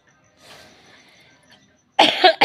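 Coughing from a person: a faint breathy sound first, then two loud, sharp coughs close to the microphone near the end.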